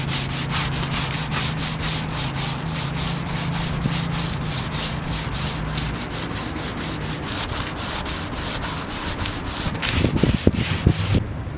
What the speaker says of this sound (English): fresh sheet of sandpaper, the medium grit, and I'm just going to go over this trunk